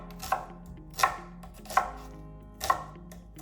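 A knife strikes a cutting board while slicing a medium onion, five crisp, separate chops spaced roughly evenly, close and clear, with quiet gaps and no talking.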